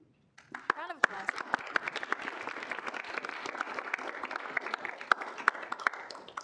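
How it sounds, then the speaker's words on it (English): An audience at a student senate meeting applauds, with dense, moderately loud clapping that starts abruptly and keeps up steadily for several seconds. "Round of applause."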